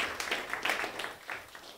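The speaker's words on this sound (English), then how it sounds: "Round of applause for DJ." A small audience breaks into brief, soft applause, a loose patter of claps that swells and fades within a couple of seconds with almost no talking.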